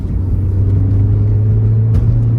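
A 2016 Ford Focus pulls with a steady mid-pitched engine drone and road rumble from inside the cabin, with a short dip and bump around a gear shift near the end.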